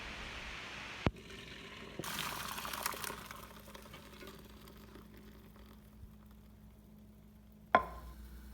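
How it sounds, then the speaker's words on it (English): Water drains off freshly cooked rice for vegetable biryani, a steady pouring, rushing wash that runs for several seconds before stopping with a clatter, heard close with no talk. "Now the rice is perfectly cooked. Now we can drain the water."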